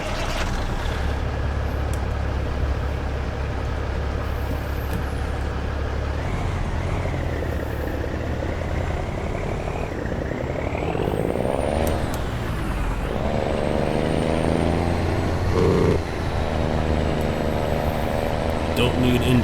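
Heavy truck engine idling and pulling away in American Truck Simulator, a steady loud low diesel rumble with rising and falling revs and an air brake hiss throughout, with a voice talking over it.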